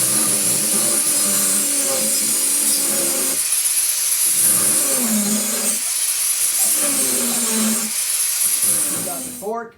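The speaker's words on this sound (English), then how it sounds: "My dad's going to use the angle grinder to cut off the head tube." An angle grinder cuts through the steel head tube of a tricycle, a loud continuous high-pitched screech that runs steadily for nearly ten seconds, with tonal whine changes as the cut load varies and voices speaking underneath.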